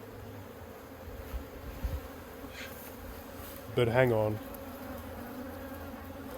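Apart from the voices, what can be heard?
honey bees buzzing around hive cage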